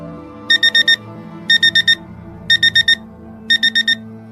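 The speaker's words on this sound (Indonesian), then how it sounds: "Ramdan pun dibangunkan oleh alarm dari handphonenya." A mobile phone alarm rings at 3 a.m. in a tent on a mountain hike, sounding four loud bursts of rapid quadruple beeps at an even one-second rhythm, close and alone.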